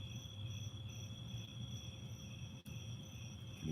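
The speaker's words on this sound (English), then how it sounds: "you hear the crickets?" Crickets chirp at night outside on a porch, a steady, continuous high trill that is faint and distant, with no voices.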